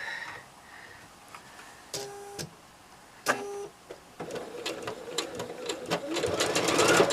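Sewing machine running in short bursts while a quilt block is stitched, the needle clatter starting and stopping a few times before a longer steady run near the end, close and fairly quiet.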